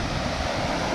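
A waterfall roars steadily close by on a cold hiking trail, with a dense, unbroken wash of rushing water filling the whole second and no voices.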